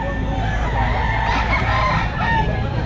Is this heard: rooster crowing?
yes